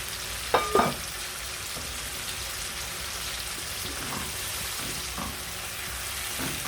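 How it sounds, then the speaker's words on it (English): Tomatoes cooking down in a pan for aloo gobi, a potato and cauliflower curry, giving a steady low sizzle with a couple of brief clinks of utensil near the start and faint taps later. "So we're just going to let the tomatoes cook down for a few minutes"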